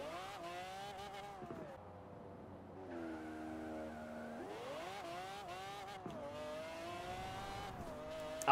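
McLaren F1 GT in Forza Horizon 4 holding a rolling launch, its engine note droning steadily and then climbing in pitch as boost builds, revving hard through gear changes, loud and continuous with no talking.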